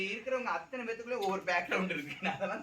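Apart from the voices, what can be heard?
No distinct noise like a dog, phone or traffic.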